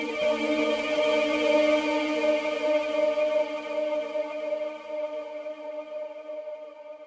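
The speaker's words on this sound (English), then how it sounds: "which is like a combination of delay and reverb and crazy modulation going on underneath" Valhalla Supermassive delay and reverb effect on a sustained synth tone with heavy modulation, a lush washing tail that slowly fades out, no voices.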